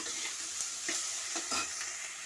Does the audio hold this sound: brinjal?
yes